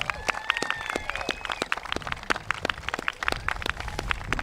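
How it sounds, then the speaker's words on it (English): Scattered, fairly sparse clapping from an outdoor audience at a pier ribbon cutting ceremony, individual hand claps distinct and close, with brief whistles early on. "Let's give them all a round of applause."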